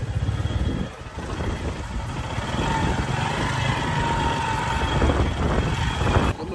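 Motorbike riding along an off-road village track, a continuous engine drone with steady throttle and a rising whine, close and fairly loud from start to finish.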